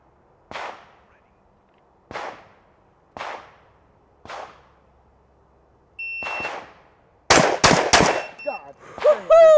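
Shotgun blasts ring out one at a time at an even pace, each followed by a short echo, ending in a faster burst of shots and the ringing clang of steel targets.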